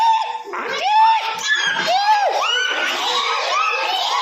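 Young preschool children in a classroom imitate a braying donkey in chorus, loud rising and falling hee-haw cries from many voices overlapping into an excited, shouting din.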